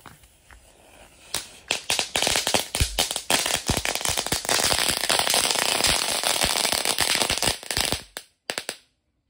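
A rapid string of loud dino egg firecracker bangs and crackles set off in the ground, building into a dense burst before a few final pops and silence.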